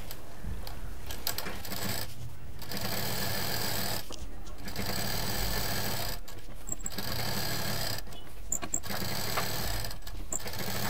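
A sewing machine runs a double line of stitching on a fabric waist mobile case, with steady mechanical whirring in several bursts separated by short pauses, close and alone.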